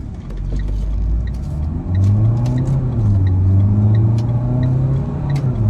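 A Renault Clio 4 1.5 dCi diesel engine with EDC automatic gearbox rumbles low and steady, pitch rising gradually as the car picks up speed, with faint ticking clicks over the drone.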